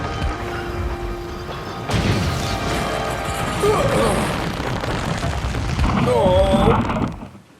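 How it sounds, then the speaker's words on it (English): A wooden crate is crushed beneath the wheels of Gordon, a steam engine, which is flung off the rails by a fishing line: a sudden heavy crash and clatter, then sustained loud rumbling and scraping with squealing metal and a brief voice exclaiming. "A crate had been placed too close to the line, but there was nothing he could do as it was crushed under his wheels and threw him from the rails"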